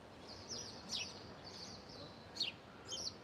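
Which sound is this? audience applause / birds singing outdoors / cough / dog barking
birds singing outdoors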